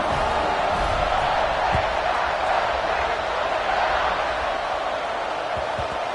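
A packed football stadium crowd roars steadily at kickoff, a dense, continuous wall of cheering that stays loud and even throughout with no clear breaks.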